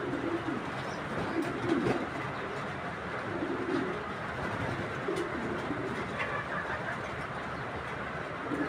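Large racing pigeons, a red checker pair and a mili pair, coo softly and repeatedly in low murmuring bursts against steady background noise, with no one speaking.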